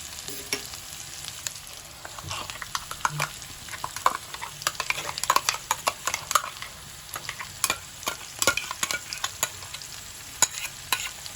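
Ground spice paste goes into frying mixed vegetables, with a soft background sizzle under frequent sharp scraping and clattering stirring strokes, close and irregular throughout.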